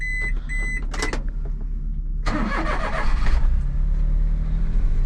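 A fuel-injected kei car with 4-wheel drive and a 5-speed gearbox, 80,000 km on it, sounds a few warning chimes, then the starter cranks briefly and the engine catches and settles into a steady close idle.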